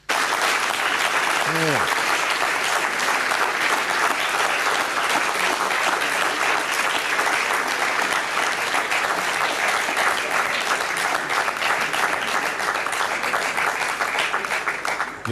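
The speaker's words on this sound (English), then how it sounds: "The applause erupted here in Jupiter." Control-room staff applaud the PeruSAT-1 satellite's separation during its launch campaign, sustained dense clapping from a crowd with a brief early cheer and a single spoken word near the start.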